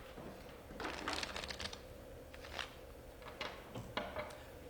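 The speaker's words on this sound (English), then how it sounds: "Shuffle these cards." A deck of playing cards being shuffled, several short riffling bursts, close and fairly quiet.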